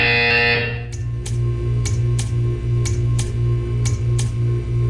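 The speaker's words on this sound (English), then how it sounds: "You will hear a buzzer. When you hear the buzzer, stare at the art." Portal 2 video game buzzer: a loud electronic tone cuts off, followed by a series of evenly spaced sharp ticking pulses over a steady low hum.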